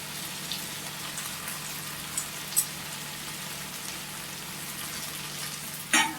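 Paneer frying with ready masala in a pan for Amritsari paneer bhurji, a steady close hissing sizzle with occasional small pops and clinks.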